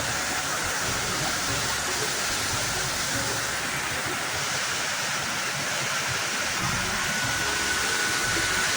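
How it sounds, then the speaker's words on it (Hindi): Constant rushing roar of a small waterfall at Jharjhara Mata near Gariyaband, steady and full, with no breaks or voices over it. "और ये है छोटे से झरना जो कि बहुत ही सुंदर है"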